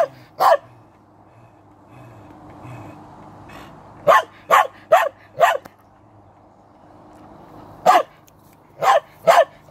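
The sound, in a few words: dog barking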